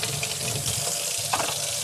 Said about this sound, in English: I'm just like scrubbing it with a nail brush.